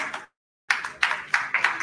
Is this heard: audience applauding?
yes